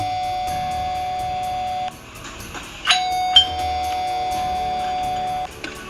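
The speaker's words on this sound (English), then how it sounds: "But I also couldn't listen to the doorbell ring for 10 minutes." A doorbell chimes repeatedly, bright electronic tones ringing in sustained phrases that stop and restart several times, close and clear over a quiet room.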